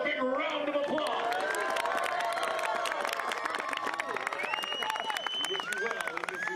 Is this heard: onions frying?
no